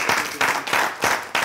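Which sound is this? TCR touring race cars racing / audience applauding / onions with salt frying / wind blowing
audience applauding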